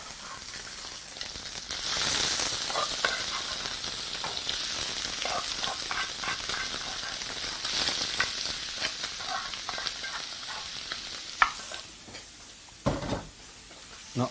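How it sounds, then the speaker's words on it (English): Soy chunks fry in a hot pan with a steady, bright sizzle and crackle that holds for the whole stretch, with a few soft stirring clinks along the way. "we're going to proceed to add our soy chunks once our pan is hot"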